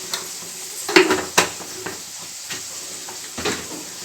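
Chicken biryani being stirred in a cooking pot: a few sharp metal scrapes and clinks of a spoon against the pot, loudest early on, over a faint sizzle, with no talking.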